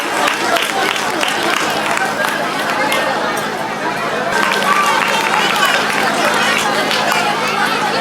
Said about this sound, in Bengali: ওদের জন্য একটা জোরে হাততালি হয়ে যাক।